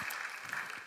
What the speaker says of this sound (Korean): 우리 이 아이들 향해서 큰 박수로 한번 격려하겠습니다